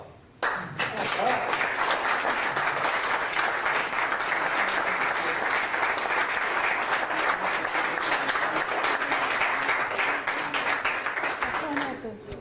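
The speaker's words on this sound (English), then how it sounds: "I'd like for everybody to give you a hand of applause." Loud, sustained applause from an audience at a Texas congressional session, starting abruptly and holding steady as a dense wash of clapping for about twelve seconds before cutting off, with no voices over it.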